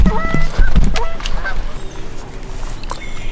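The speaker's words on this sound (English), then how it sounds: "He just gobbled again." A wild turkey gobbler gobbles in Illinois wetlands, a short rattling burst of gobbling near the start, then faint distant calls over outdoor background.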